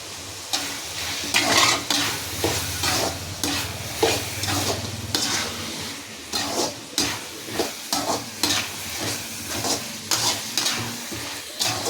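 Potatoes and onions sauté in a pan for chicken kuzhambu, a continuous sizzle under repeated rhythmic stirring and scraping strokes, close and fairly loud, with occasional clinks of a spoon on metal.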